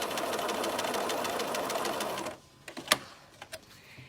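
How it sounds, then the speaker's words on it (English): A sewing machine stitches one side of quilt fabric in a steady, dense whir for about two seconds, then stops abruptly, leaving a few faint clicks and taps from handling the fabric. "And what I'll do is I'm just going to sew the one side."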